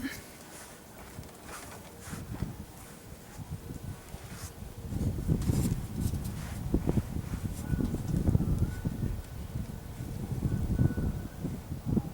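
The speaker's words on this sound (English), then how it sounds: "It's pretty windy out here" Gusty wind buffets the microphone outdoors beside a 2010 Toyota Highlander, a low rumbling roar that swells louder after the first few seconds, with faint rustling mixed in.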